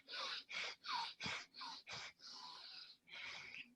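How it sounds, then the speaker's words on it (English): Exaggerated deep inhales of a breathing exercise: about eight close, breathy, rasping intakes of air in a steady rhythm, the last two longer and drawn out. "So if you exaggerate your inhale by going,"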